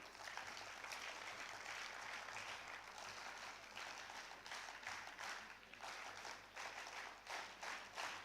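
Crowd clapping at a national youth festival summit session, a continuous dense wash of applause with a faint pulsing rhythm, steady and sustained throughout.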